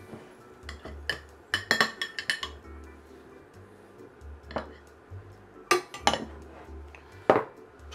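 Metal utensil clinking and scraping against a pan while butter is worked into a pan sauce for steak with French peas, in irregular clusters of sharp taps with quieter stretches between them.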